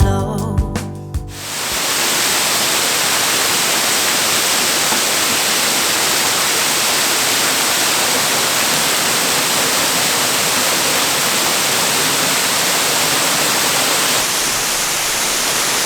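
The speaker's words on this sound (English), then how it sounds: "little pool here with a waterfall" A springtime waterfall in the Central Cascades near Lake Serene pouring into a small pool, a loud, steady, unbroken rushing hiss that starts after a brief opening burst of music and runs on evenly to the end.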